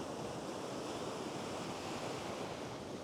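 Ocean waves wash onto the shore in a steady, dense roar with some wind noise buffeting the microphone, constant and close throughout with no voices.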